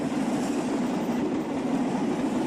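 A Rail King CC206 locomotive hauls three carriages slowly up an incline, producing a steady, loud rumbling drone with a faint rail clatter and no voices.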